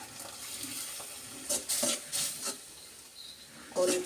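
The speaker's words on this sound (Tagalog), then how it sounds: "Lagyan na natin ng mainit na tubig." Hot water poured into a pot of vegetables already boiling on the stove, a steady hissing, watery rush with a few louder bursts of pouring and splashing, heard close with no talking.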